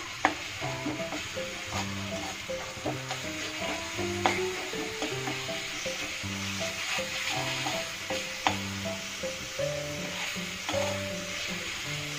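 Whole spices and masala frying in hot oil for a Katla fish kalia curry, a steady sizzle with occasional stirring scrapes that runs the full length under a prominent, continuous musical background.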